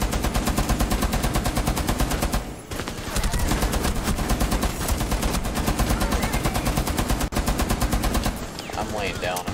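Rapid, steady gunfire pounds in Rainbow Six Siege, loud and close, with evenly spaced shots running almost continuously and only a brief break partway through.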